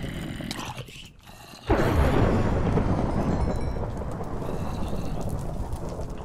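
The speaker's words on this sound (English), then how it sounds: "Man, that thunder." A sudden loud crack of Minecraft thunder breaks into a sustained rumbling roar that lingers over steady rain noise.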